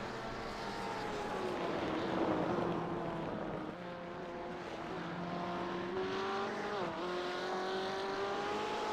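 GTE race cars at Barber Motorsport Park, a loud sustained engine note rising and falling in pitch as the cars race close together, with a brief dip and a sharp pitch swing near the end.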